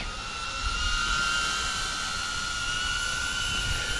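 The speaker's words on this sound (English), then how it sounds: "if you think that this is a noisy quadcopter, it was far worse with the previous propellers" A 3-inch quadcopter fitted with Gemfan D76 ducted whoop propellers flies nearby, giving a steady, loud high-pitched whine with strong hissing air noise that holds level throughout, with no one speaking.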